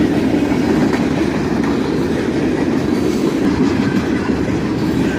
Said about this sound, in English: Check that out, 4 locomotives on this one.